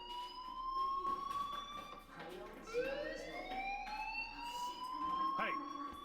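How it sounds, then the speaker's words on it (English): A school fire alarm in the Life is Strange video game wails in rising and falling electronic tones, steady and fairly loud, with game voices and ambience underneath. "do you hear that fire alarm?"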